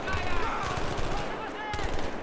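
Gunfire in the Battlefield 3 video game during a single-player mission, with rapid automatic bursts of rifle shots crackling steadily under a voice, some louder volleys standing out near the end.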